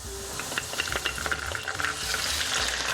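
Browned onions sizzle in a pan with garlic and ginger paste for a minced lamb and peas keema. A soft frying hiss sits under repeated close scraping and clinking as a utensil stirs the pan.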